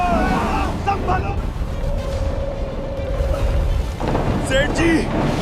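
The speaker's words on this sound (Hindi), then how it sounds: "आगे भयानक तूफान है, अब कोई नहीं बचेगा।" A thunderstorm at sea pounds a boat on rough water, producing a constant, heavy roar of wind, waves and rumbling thunder under dramatic shouted voices, with brief vocal cries rising above it.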